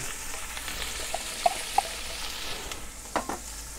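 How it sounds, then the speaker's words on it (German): Onions frying in a cast-iron Dutch oven after browning beef shanks, a steady close sizzle with a few light clicks and scrapes of stirring, no one speaking. "Jetzt gehen wir die Zwiebeln rein."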